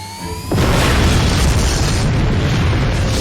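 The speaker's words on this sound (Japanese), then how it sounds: "現在内湾を制圧した進駐軍艦隊により砲撃を受けている" Artillery shell explosion from a wartime visual novel game: a sudden heavy boom about half a second in, followed by a loud, sustained rumbling roar that fills the rest of the clip.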